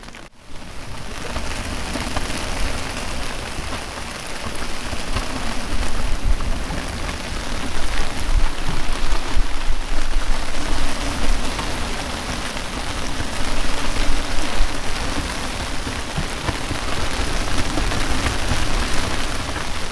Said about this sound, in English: I think that's the rain that just went over us.